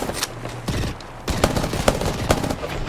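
Rapid automatic gunfire in the battle royale game Apex Legends during a competitive scrim match, sharp cracking bursts repeating loudly and close over a busy mix of game effects.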